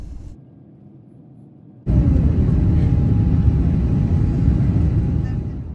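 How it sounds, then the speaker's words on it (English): A Turkish Airlines Airbus A350 on its takeoff roll from Zurich airport, heard from inside the cabin: quiet hum, then a sudden surge into a loud, steady engine roar that slowly eases. "Flight TK1910 taking off from Zurich International Airport to Istanbul, Turkey."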